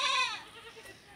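Goats on a farm let out a single short, nasal bleat at close range, followed by quieter background rustling.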